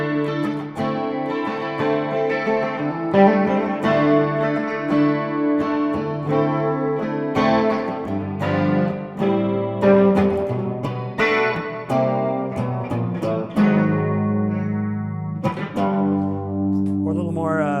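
Gittler guitar played through a chorus effect, with clean, shimmering chords and picked notes ringing close and steady, some notes sliding in pitch, the playing continuous with no speech.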